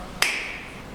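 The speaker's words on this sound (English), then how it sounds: "Can you just give me a clap?" A single sharp hand clap rings out once at close range, followed by a brief decaying room echo, alone in an otherwise quiet space.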